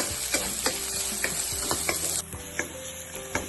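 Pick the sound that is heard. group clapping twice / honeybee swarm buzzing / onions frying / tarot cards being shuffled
onions frying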